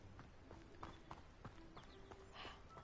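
Player character's running footsteps in the video game Hogwarts Legacy, a steady rhythmic clatter of quick hard steps on ground, close and moderately loud amid faint background ambience.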